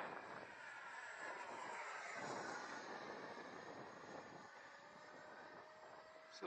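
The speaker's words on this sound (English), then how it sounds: "This little plane sounds amazing for 64 millimeter." An Xfly T-7A Red Hawk model jet with a 64 mm electric ducted fan flies past outdoors, a steady whooshing whine that swells and fades gently as it passes, with no talking.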